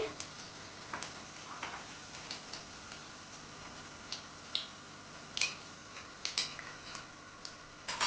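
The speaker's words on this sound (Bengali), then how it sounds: "তেলে এবার দিয়ে দিচ্ছি জিরে" Cumin seeds frying in hot oil for Bengali-style chira pulao, with a faint steady crackle and scattered small pops and ticks, close and fairly quiet.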